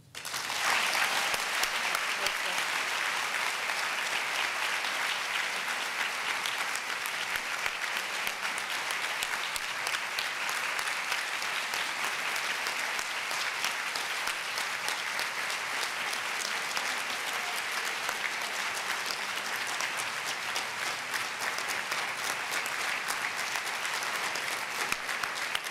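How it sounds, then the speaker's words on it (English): An awards ceremony audience applauds an honoree at an international women's courage event, with sustained, dense clapping from a large crowd holding a steady level for over twenty-five seconds. "We honor and applaud you."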